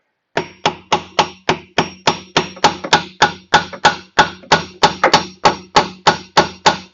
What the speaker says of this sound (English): we're just going to take the hammer, be hitting it on this lip right here